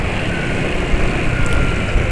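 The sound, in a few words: motorcycle engine running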